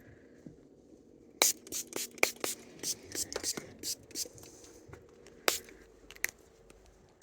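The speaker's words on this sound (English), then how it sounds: "I'm going to spray this." Short sharp hissing sprays from a spray bottle while grooming a dog, several quick bursts at irregular intervals, close by, with faint whispering in the background.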